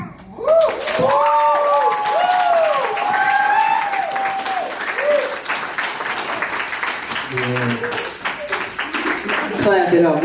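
A crowd at an open mic night applauds steadily and loudly for several seconds, with a voice speaking over the clapping at the start and some cheering near the end.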